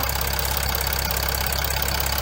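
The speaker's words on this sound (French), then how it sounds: "On fait chauffer le moteur." A Chrysler 300C engine idles while warming up, giving a steady, even low rumble with a constant mechanical hum and no changes in revs, heard alone without voices.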